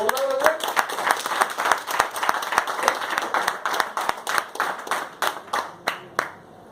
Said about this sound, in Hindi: उनकी तालियां तो स्ट्रॉन्ग होनी चाहिए। जब जोरदार हो जाए